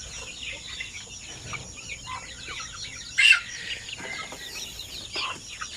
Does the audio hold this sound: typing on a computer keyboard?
no